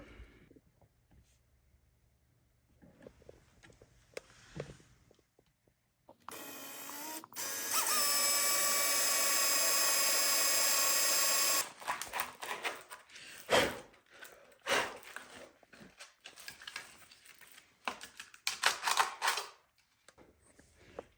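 A drill whines loudly for a few seconds at close range, drilling into a plastic plate for a kayak install, bracketed by scraping, clattering handling noises and quiet rustling before and after.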